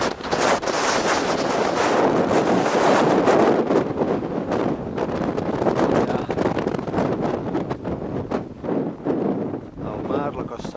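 Strong, continuous wind buffeting an exposed mountain summit on Matagalls in spring, roaring and gusting loudly against the microphone throughout with no letup.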